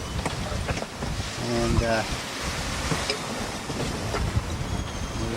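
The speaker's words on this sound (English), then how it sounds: "The winds are fairly strong." Strong wind roars over a sailboat running downwind under little sail in the open ocean, about 1,700 miles east of Chile, a loud, continuous broadband rush with water noise, while someone talks briefly over it.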